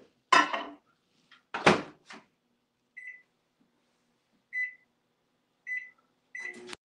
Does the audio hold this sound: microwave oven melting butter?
yes